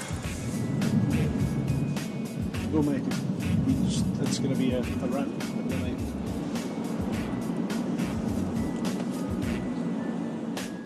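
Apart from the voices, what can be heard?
road traffic in a gridlock jam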